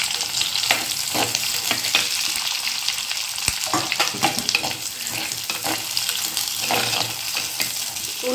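Onions sizzle and crackle loudly in hot oil with fenugreek and slit green chillies, close and continuous, with stirring scrapes throughout.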